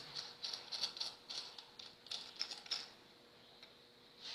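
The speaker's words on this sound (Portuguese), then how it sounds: "em seguida coloque a porca. Porca número 15. Utilizando uma chave 15 para apertar em seguida" Size 15 wrench tightening a nut onto a bolt while assembling a leak-barrier fixture, giving a run of quiet, quick metallic ratcheting clicks in bursts, then a pause with a faint click near the end.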